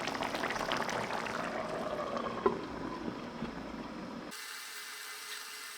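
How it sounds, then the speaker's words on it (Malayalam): Egg curry boiling in a covered pan makes a steady, soft bubbling hiss with a few faint clicks, then cuts off abruptly near the end. "ഒരു മൂടി കൊണ്ട് അടച്ച് ഒരു 2-3 മിനിറ്റ് നന്നായി തിളപ്പിച്ചെടുക്കുക"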